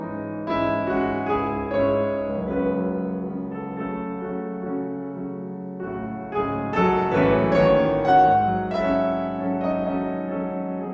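A sampled Bösendorfer Imperial grand piano from VSL plays through a condenser tube mid-position microphone. Full, sustained chords ring out clearly and alone, with a rich low end and a new phrase swelling in partway through.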